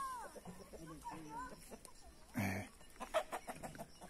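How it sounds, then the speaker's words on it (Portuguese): Farm chickens cluck in short bursts at moderate distance, with a louder flurry near the middle, while a person talks over and between the calls. "As galinhas que Mariquinha cria aqui."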